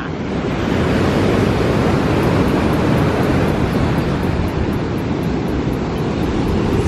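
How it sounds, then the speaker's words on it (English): Big sea waves break on the shore at Alanya, Turkey, a loud continuous roar of surf with wind buffeting the microphone. "I can't believe the waves are so big again today."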